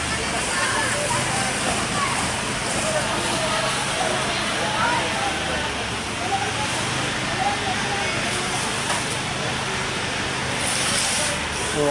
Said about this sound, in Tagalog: Patayin muna yung mga apoy na yan at hindi nasisiklab yan.